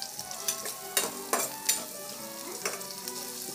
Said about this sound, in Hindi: ये मसाला भूनने का काम है, इसको भून लेता हूँ